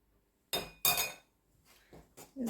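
Cake batter is mixed in a bowl. Two loud, close clinks of a utensil against the bowl are followed by quieter scraping and tapping.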